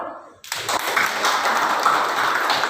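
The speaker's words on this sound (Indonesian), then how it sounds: "Tepuk tangan dulu" A third-grade class of children clapping together in their classroom, a sudden burst of brisk applause that carries on evenly for a couple of seconds.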